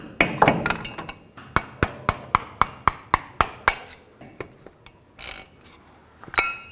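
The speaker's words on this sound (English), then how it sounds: "Hammer it in here gently and then pry." A screwdriver is hammered against a metal axle nut cover on a 2007-14 Chevy Silverado, giving a run of about a dozen sharp, evenly spaced metallic taps up close, with a few scraping pry sounds after.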